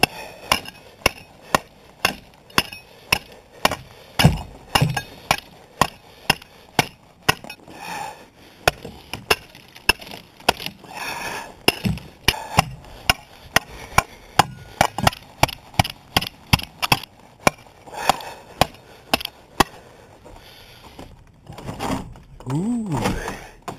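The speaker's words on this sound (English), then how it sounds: "I have to get the chisel." A chisel chopping at ice, sharp hard strikes landing in a rapid, steady rhythm close by for most of the stretch, with a short pause and some rustling near the end.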